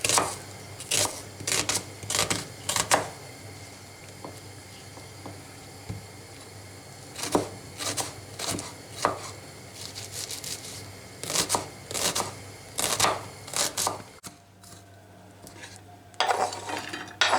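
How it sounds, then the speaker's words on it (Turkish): A knife chops through two onions on a cutting board in a home kitchen, sharp clustered bursts of rapid cuts separated by pauses, close and crisp. "İki tane soğan kıydım."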